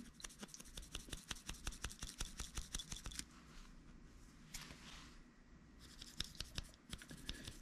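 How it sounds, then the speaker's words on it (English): A dental handpiece chuck is scrubbed clean of black gunk, producing rapid rhythmic scratchy brushing strokes, steady at first, then a pause of softer rubbing before the scrubbing resumes; quiet and close. "all we're gonna do is keep cleaning it until until we don't really see any more black gunk on there"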